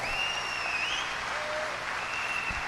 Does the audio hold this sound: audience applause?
yes